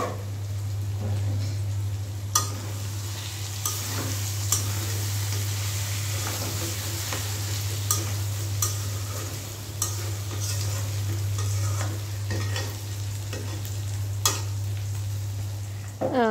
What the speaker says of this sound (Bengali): এক চুলায় মাংসের তরকারি বসিয়ে দিলাম, আর এক চুলায় যে কাঁকরোল ভাজাগুলো করে নিব।